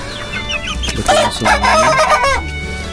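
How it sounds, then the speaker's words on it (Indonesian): AKC chickens, all hens, cluck and squawk up close, with a crowing-like drawn-out call rising in the middle among overlapping bird voices. "ini ayam AKC kita, ini betina semua"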